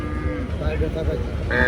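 A cow at a busy Faridpur cattle market for Qurbani lets out low mooing calls close by, with other livestock and faint market noise behind.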